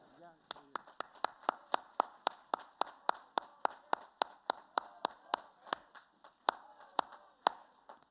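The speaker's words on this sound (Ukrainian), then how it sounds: "Ці оплески для тебе" Rhythmic unison clapping from an audience for a poet on the Maidan stage, sharp evenly spaced claps at a steady quick pace, fairly close, with faint voices beneath.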